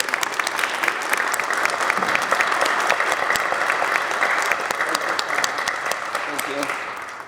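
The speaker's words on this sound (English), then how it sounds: "So let's give them applause." Sustained applause rises from an audience in a Senate chamber to honor staff members, a dense continuous wash of clapping lasting several seconds before tapering slightly at the end, with voices mixed in.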